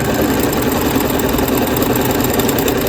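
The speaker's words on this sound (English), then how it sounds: "sewing machine and we're going to sew across here on each of the corners" A home sewing machine stitches a quarter-inch seam across the corners of a fabric makeup bag, with a steady, continuous motor whir and needle chatter running loud and close throughout.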